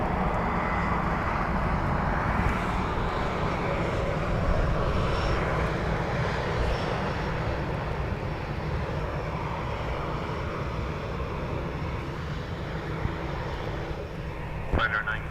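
A Ryanair airliner rumbles loudly and steadily while taking off in blustery crosswinds at Dublin Airport, with wind buffeting over the roar and voices talking faintly beneath it.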